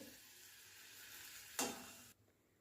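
A little chana dal vada batter is dropped into hot oil, setting off a sudden burst of sizzling that flares and then cuts off abruptly, above a faint steady hiss.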